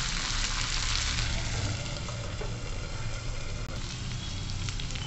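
Cluster beans with garlic sautéing in oil in a covered pan, a constant close frying hiss and sizzle filling the whole stretch with no pauses.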